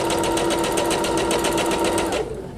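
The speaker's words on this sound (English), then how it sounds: "now I'm going to sew. You can either use the button there, or you can use your foot pedal" An EverSewn Sparrow X2 sewing machine takes its first stitches, a close, loud, fast rhythmic whirring run that stops abruptly near the end.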